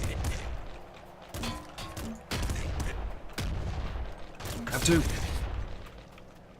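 Double grenade launcher firing and exploding in the video game Nuclear Throne: repeated punchy launches and booming blasts in quick succession, with a voice talking over them.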